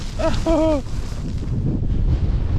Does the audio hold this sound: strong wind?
yes